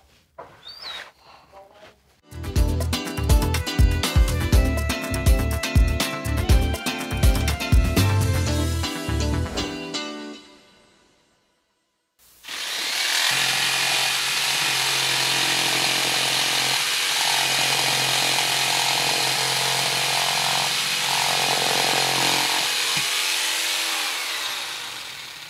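A power saw cuts wood in a craft workshop, first with a choppy run of rapid bursts, then after a short silence a long steady buzzing cut, loud and near.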